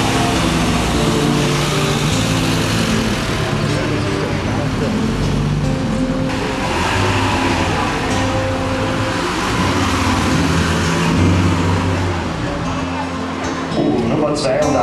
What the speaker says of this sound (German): Nummer 82, Axel Lichtner und Marina Scherz. Circa 400 PS. Wir haben es gehört.